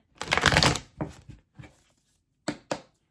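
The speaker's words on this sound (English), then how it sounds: "I do like to just give these one shuffle before I clear them" Tarot cards are shuffled close up in one riffle burst, followed by a few short taps and quieter card-handling sounds, with no speech.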